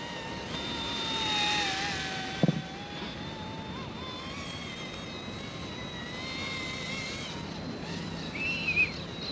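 An ERA C159 remote control helicopter makes a low pass, a thin high-pitched motor and rotor whine that swells and falls steadily at moderate distance, with brief knocks.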